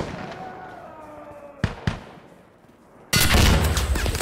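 Frag grenade explosion in the video game Insurgency Sandstorm: a couple of sharp gunshot cracks, then a sudden loud, sustained blast roar that fills the end.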